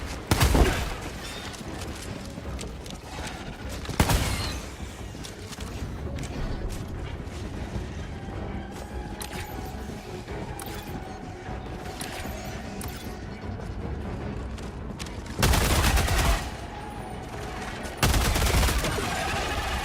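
Assault rifle gunfire in Helldivers 2 rattles in several loud bursts over a continuous din of battle noise and mechanical clatter, with heavier blasts near the start and end.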